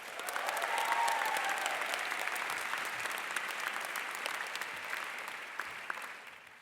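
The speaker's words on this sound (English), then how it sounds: "give yourselves a round of applause for your kindness" A crowd claps steadily for several seconds at a university commencement ceremony, a dense, sustained round of applause that slowly tapers off.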